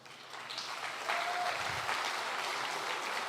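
Church congregation applauding, a steady, full wash of many hands clapping that swells slightly after the first second and holds, moderately distant and without talk.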